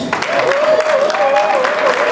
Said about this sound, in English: Those claps are coming from Nigerian youth